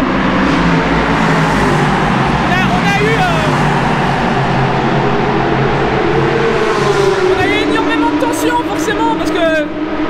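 A race car laps a circuit in Shanghai with a loud, continuous engine drone close by throughout, its pitch shifting as it accelerates, while a voice talks over it.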